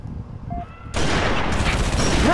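Gunfire in the video game Halo 3: ODST erupts into a dense, loud burst of shots after a quieter opening, continuing without pause to the end.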